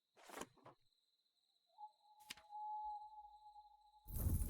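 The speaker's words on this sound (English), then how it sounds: "that last owl did not sound normal" A video-game owl hoots once in a long, steady, unnatural-sounding tone against a quiet background with a high electronic whine, framed by brief bursts of noise.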